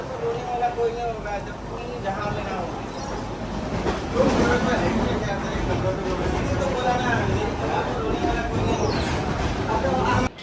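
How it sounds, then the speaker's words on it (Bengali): Inside the dining car of the moving Deccan Queen express between Pune and Mumbai, a loud, steady rumble of wheels and carriage rattle fills the space, with voices talking over it. "ডাইনিং কারে এই ট্রেনের ডাইনিং কার"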